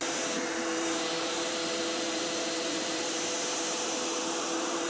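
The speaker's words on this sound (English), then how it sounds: "I just wanted the vacuum sound" AI-generated vacuum cleaner sound: a loud, continuous motor roar and airy hiss with a steady tonal hum, unchanging and close throughout.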